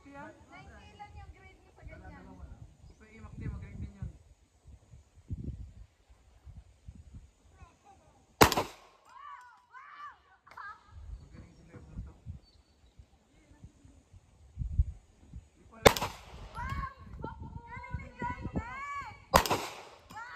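Three loud gunshots fired outdoors at Capayang, Mogpog, Marinduque, sudden booming cracks a few seconds apart, with people, including children, chatting before and between them.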